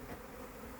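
A swarm of honeybees buzzing during the capture of a swarm into a hive, a dense, steady hum close by, alone and unbroken for under a second.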